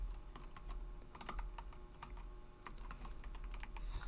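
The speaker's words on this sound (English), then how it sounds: "Let me just type it out." Typing on a computer keyboard: quick, irregular bursts of close, crisp key clicks and taps over a faint steady hum, with no talking.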